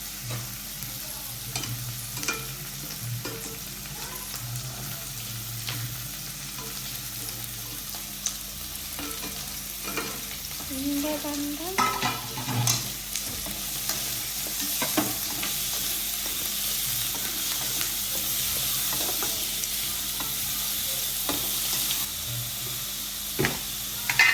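Carrots sautéing in a pan over the stove, a low steady sizzle with occasional scraping stir strokes and utensil clinks, no talking.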